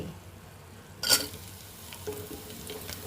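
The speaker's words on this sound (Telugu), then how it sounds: "అల్లం వెల్లుల్లి మిర్చి ఉల్లిపాయ కొత్తిమీర ఓకేనా ఇవన్నీ ఆ తాలింపులో వేసేసుకుందాం" Ginger, garlic, chilli and onion hit hot oil in a tempering for khichdi, giving a sudden loud sizzling burst that settles into a steady, quieter crackle, with a faint stir or clink near the end.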